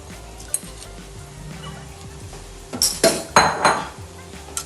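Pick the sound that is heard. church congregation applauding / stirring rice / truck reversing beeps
stirring rice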